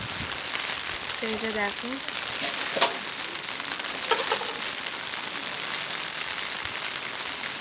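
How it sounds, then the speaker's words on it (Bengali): Rain falls outdoors beside rice paddy fields, near a house, as a soft, even hiss that runs through the whole stretch, while a person talks briefly over it and a couple of sharper ticks stand out. "ওই যে বৃষ্টি হচ্ছে"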